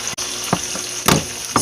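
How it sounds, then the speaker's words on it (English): Vinaigrette and water sizzle in a pan with pork chops, giving a soft, constant frying hiss broken by a few short clinks and scrapes. "I'm just going to add it with my water and let it saute in this pan."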